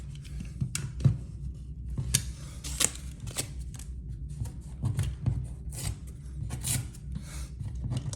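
Scissors or a blade slicing through wallpaper on an interior wall, heard as close, uneven rasping and snipping strokes with soft rustling between cuts.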